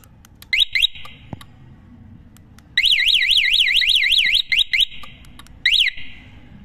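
A loud electronic tuk-tuk alarm sounds in short bursts, then a long warbling siren sweep, then more brief chirping bursts.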